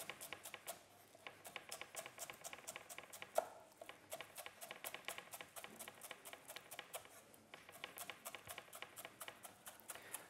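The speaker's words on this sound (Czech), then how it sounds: "Jarní cibulku také nakrájím pěkně na šikmo." Knife chopping spring onion on the diagonal on a board, a quick run of sharp, evenly spaced taps with a brief pause midway, close and fairly quiet with no talk.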